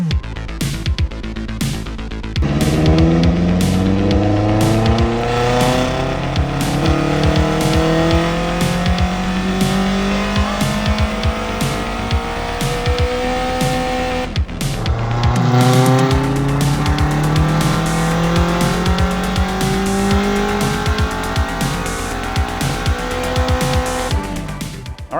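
A 90s Honda time attack car runs on a dyno. Its engine revs loudly up through the range in two long, rising pulls, with a brief drop between them, close and continuous, with no talking.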